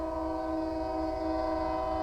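A train horn in Hogwarts Legacy sounds as one loud, steady, multi-tone blast that holds without a break over a low rumble.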